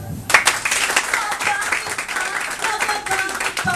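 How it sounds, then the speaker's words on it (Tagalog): Audience applause and clapping at a motivational talk on becoming a top earner, a dense sustained patter of many hands lasting several seconds with some crowd voices mixed in. "Palakpak."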